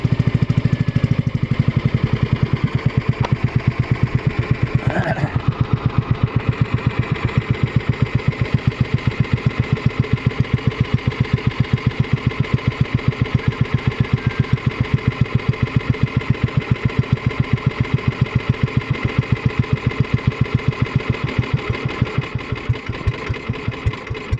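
Outboard motor of a small wooden bangka running steadily at close range, a fast regular chugging pulse after a brief start, continuing without pause while the boat is towed through shallow water.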